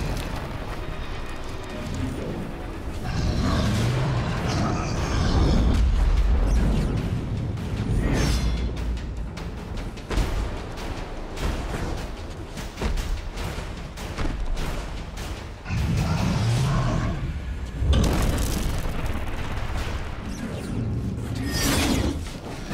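Armor latches on an ogre are smashed apart in the game Extinction, with heavy metallic impacts and crunching bursts recurring amid loud combat whooshes and rumbles.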